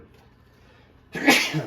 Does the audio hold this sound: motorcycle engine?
no